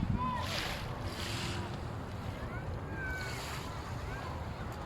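Sea waves wash at a marina seaside, a soft steady surf hiss with gusts of wind noise on the microphone and occasional faint voices.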